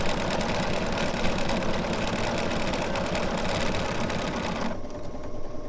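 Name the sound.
sewing machine sewing quilt seam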